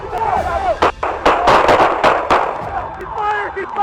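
Gunshots fired by a suspect during a police chase, caught on a dashcam: a rapid series of sharp, loud cracks spaced irregularly, mixed with shouting voices.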